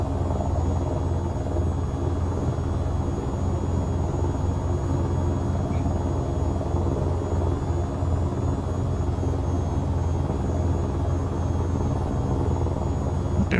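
A helicopter's rotor and turbine drone on steadily at a moderate level, a constant hovering whir with no speech; an AH-94 attack helicopter in a flight simulator game.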